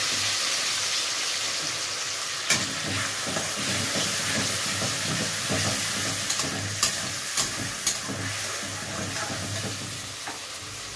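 Mustard greens cook in a pan as water goes in, with a steady, loud hiss of sizzling and steam throughout and occasional light clinks and scrapes of a utensil, close up.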